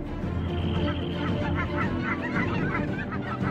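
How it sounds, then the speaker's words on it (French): Geese honk over an autumn landscape in Spain, their calls overlapping steadily at moderate distance above a constant low background rumble, with no talk. "Les oies s'envolent vers le sud."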